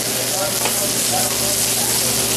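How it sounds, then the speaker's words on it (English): Sablefish and green onions (scallions) frying in a hot pan, a loud, dense, steady sizzle close by with a low background hum, no talk. "I'm going to put in some green onions, scallion. Turn that over."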